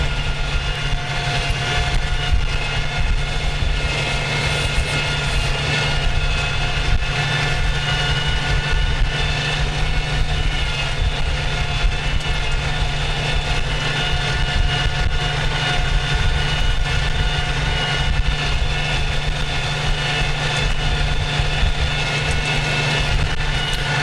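A tractor plows a field, its engine holding a loud, constant droning roar from start to finish, near and steady, with no voices.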